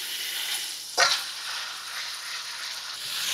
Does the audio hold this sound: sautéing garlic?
yes